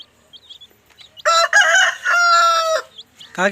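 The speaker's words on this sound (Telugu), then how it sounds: "చూడండి ఫ్రెండ్స్ నాలుగో పుంజు ఇది" A Kadaknath-type fighting rooster, a Kathai breed cock weighing about three to three and a half kilograms, crows once in a long, loud, near call lasting over a second, with a brief start of another crow at the end.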